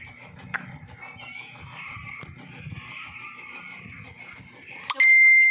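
A cat gives drawn-out meows and murmuring cries close by at low volume, with a sharp tap or two and a brief ringing tone at the end.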